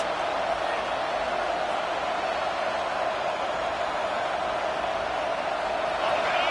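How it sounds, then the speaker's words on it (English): Steady, dense crowd roar from a stadium, a continuous wash of many voices at constant loudness with no distinct individual words. "This crowd bringing the energy and noise early."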